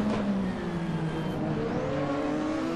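A 1986 turbocharged Formula 1 car at Imola in the Assetto Corsa racing game, a loud continuous engine whine shifting in pitch as it revs and changes gear, heard alone without talk.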